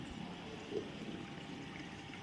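Wash water running off and draining away after the morning laundry outdoors in Andhra, a steady low rushing flow heard alone at a distance.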